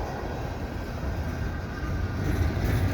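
A CN freight train with tank cars rolls past at Dorval in winter, a steady broadband rumble and rattle of wagons that swells slightly toward the end.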